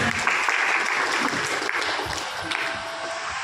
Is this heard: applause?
yes